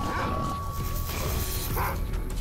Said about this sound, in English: And a bunch of doggies.